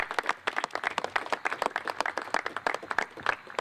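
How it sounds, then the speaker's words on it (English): An audience at a child passenger safety bill announcement gives a short burst of steady applause, many hands clapping densely and evenly, fairly faint and without speech. "another round of applause for them"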